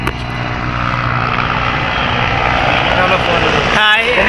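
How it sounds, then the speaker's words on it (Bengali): Helicopter passing close overhead at an air force museum, a loud steady rotor and engine roar filling the whole clip, with people talking faintly underneath. "এই যে সে হেলিকপ্টার দেখেন কত কাছের থেকে আসছেন"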